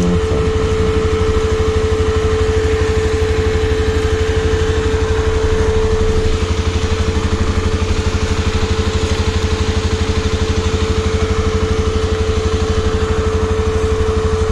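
A fan runs at Stone Peak Cafe in Don Salvador Benedicto, Negros Occidental, producing a loud, steady mechanical drone with a constant hum that never lets up.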